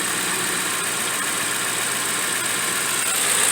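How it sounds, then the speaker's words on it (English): A big V8 engine spins fast under cranking from a Noco GB-70 booster pack, a steady loud whir that holds its level throughout, with no voices. "it made that big V8 spin really fast"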